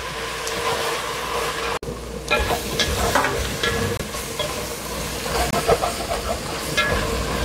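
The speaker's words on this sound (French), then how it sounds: "Le feu doit être très fort pour ne pas que les oignons commencent à bouillir." Onions for Senegalese chicken yassa fry hard over very high heat, giving a dense close sizzle with bursts of crackle and spoon scrapes and one brief dropout near the start, and no speech.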